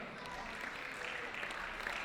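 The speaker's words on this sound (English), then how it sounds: "Please give a round of applause for Brother Ishan." Steady applause from an audience at a Ramadan festival gathering, a dense even patter of clapping held for the whole stretch at moderate distance.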